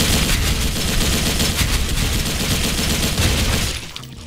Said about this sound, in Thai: ยิงทะลุเสานะครับ